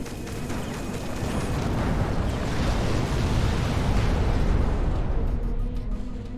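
An enemy ship explodes in a space video game, a loud sustained roaring blast of rumbling noise that swells, holds and slowly fades.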